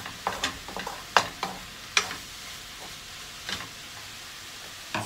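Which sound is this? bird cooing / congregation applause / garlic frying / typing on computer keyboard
garlic frying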